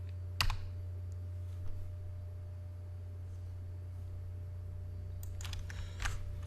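Keys clatter on a computer keyboard in a quiet room, with a single tap, a lone click, then a short burst of quick typing near the end.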